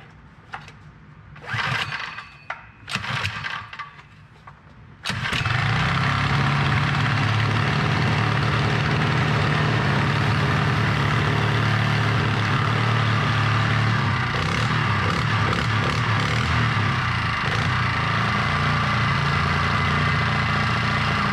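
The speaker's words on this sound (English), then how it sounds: "Let's fire her up." A 79cc four-stroke engine swapped into a Kitty Cat snowmobile starts after a few seconds of quieter handling noises, then runs loudly and steadily at close range as a continuous buzzing drone with no talk.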